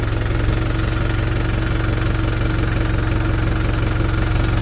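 A tractor engine idles loudly and close on a muddy, waterlogged rural track, its low, steady chugging thrum pulsing evenly with no pauses.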